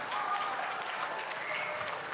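A crowd claps steadily in sustained applause at a school Independence Day ceremony, dense and fairly loud, with no break across the stretch.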